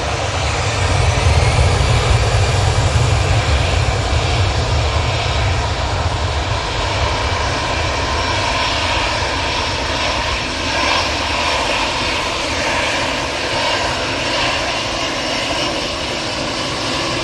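EasyJet airliner taking off at Manchester Airport, a sustained loud jet engine roar with strong low rumble at first that eases slightly while a broad hiss persists, no talking over it.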